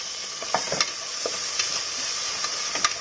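Onions and cumin seeds frying in hot oil for Chennur dum biryani. A constant sizzle is broken by sharp spatula scrapes and taps against the pan, with no talking.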